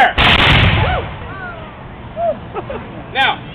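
Musketeers at a musket demonstration fire a volley: one sharp, loud blast whose rolling echo fades over a second or two, then birds chirp in the quiet.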